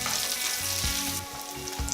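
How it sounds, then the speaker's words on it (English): Bacon sizzles loudly in a pan, browning toward a golden crispy crust, with a constant close crackle and faint low hum beneath, and no voices present. "So the point of this is to get the bacon down to a golden crispy crust."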